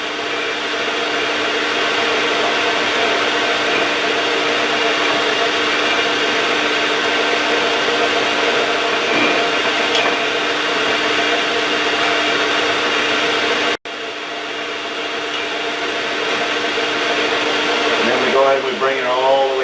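A reamer bores through a metal part during an ATV Mattracks repair. It makes a steady, loud, whining machine drone that holds for most of the stretch, with a brief cut-out near the end.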